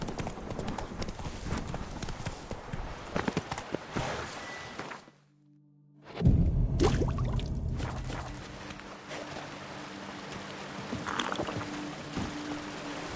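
Roach the horse gallops in The Witcher 3, hooves clip-clopping in a fast steady rhythm, broken by a brief near-silent gap before the hoofbeats return loudly.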